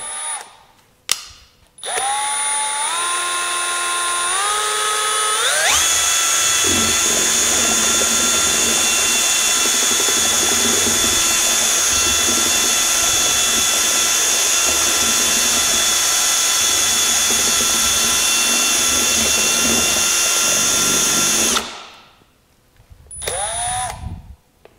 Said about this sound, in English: So now I'm gonna take a drill, mix it in,